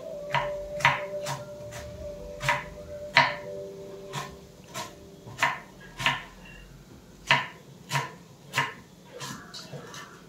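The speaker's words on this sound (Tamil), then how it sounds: "இந்த முட்டைகோஸை கொஞ்சம் நல்லா லென்த்தாக நீட்டாக கட் பண்ணி அதில் போட போகிறேன்" A knife chops cabbage on a cutting board in a series of sharp, irregular thuds, close up, with a faint hum early on.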